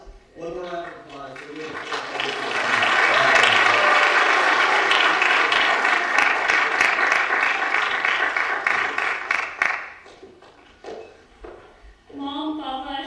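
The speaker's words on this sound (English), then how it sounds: "I'd like to have one more round of applause" Crowd applause at Simran and Sarina's Rangmanch celebration swells into dense, steady clapping for several seconds and then tapers off, with a voice speaking before and after it.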